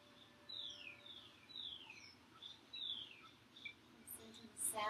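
Birds sing faintly in the distance around a bungalow in Mexico, a series of quick, descending whistled chirps repeating every second or so against a quiet outdoor background.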